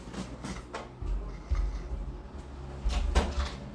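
A house door creaks and bumps open as a cat is let in after scratching at its lower edge, with low thuds and rustling close by.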